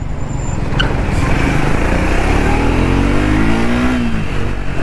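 Triumph Speed 400 motorcycle engine revving up loudly and close by, the pitch climbing steadily through an acceleration over a rumbling idle.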